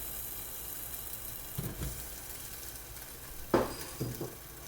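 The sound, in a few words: french fries sizzling hot from the air fryer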